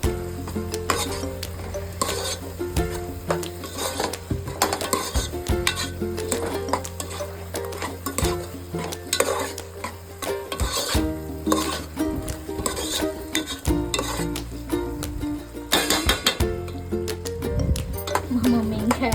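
Gongura mutton being stirred and mixed in a pan, with steady scraping and sizzling frying sounds and occasional clinks of a utensil against the metal, continuous and close throughout.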